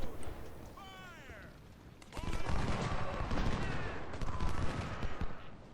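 Civil War infantry in Ultimate General Civil War fire from a building in Washington, a distant crackle of musket volleys rolling on for several seconds beneath game ambience, with a brief cat-like chirp early on.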